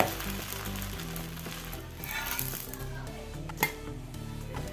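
Coconut dosa batter sizzling on a hot pan, a steady loud frying crackle with occasional clinks of utensils against the pan.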